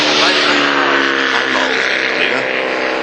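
A Formula Vee race car lapping the Amaroo circuit, a loud sustained buzzing engine note that drifts in pitch as it runs, with voice commentary layered over it.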